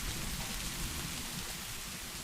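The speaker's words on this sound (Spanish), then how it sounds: "En medio del sonido furioso de la corriente, de los truenos, el viento y la lluvia" Steady, dense rain hisses evenly through a thunderstorm, with no distinct thunderclap standing out in the short stretch.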